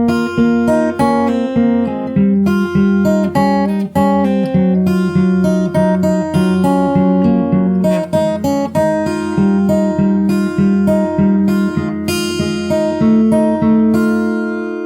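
A fingerstyle acoustic guitar plays a song, plucked notes and bass lines ringing in a steady rhythm, close and clear with no voice.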